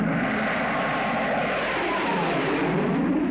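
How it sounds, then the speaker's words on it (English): Spectrum helicopter flying overhead above a motorcade, a steady broad engine and rotor roar holding at an even level throughout, with no voices. "The Spectrum helicopter is overflying the motorcade."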